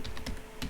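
Computer keyboard keys are tapped while code is typed. Four or five soft, close clicks come at an uneven pace over a faint background hum.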